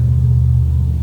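Low, loud, steady engine rumble from a work truck with a chromed-out motor passing close by, sustained evenly with no talking.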